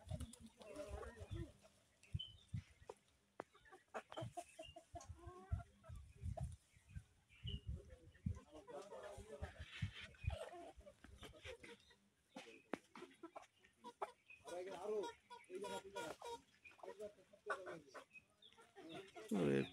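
A mixed flock of large local chickens and roosters cluck and scratch while feeding alongside pigeons outdoors, busy overlapping calls and rustling under intermittent talk, with goats nearby.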